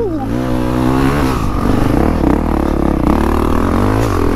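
Honda CRF450 dirt bike engine running loud and steady while being ridden, a continuous rasping drone with shifting revs and a rougher, pulsing stretch midway.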